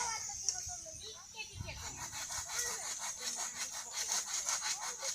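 Hand saw cutting wood at a jungle bushcraft campsite, rhythmic rasping strokes building after a brief pause, while a person talks over the sawing.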